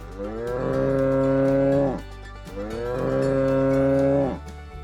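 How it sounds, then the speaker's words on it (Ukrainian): A bull calf moos twice, close and loud. Each long, drawn-out call lasts about two seconds and is separated by a short pause. "Муму говорить бичок."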